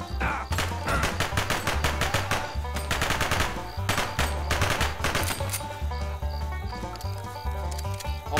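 Rapid automatic gunfire in the video game American Fugitive, dense bursts of sharp loud shots in quick rhythm with short pauses between volleys, continuing throughout.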